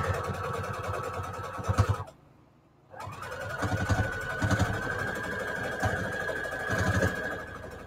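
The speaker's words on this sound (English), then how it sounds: "Just a straight stitch with a quarter inch, sewing at the quarter inch mark." A sewing machine runs a straight quarter-inch stitch through quilt fabric, a steady close mechanical whir that stops for about a second, then starts up again and keeps going.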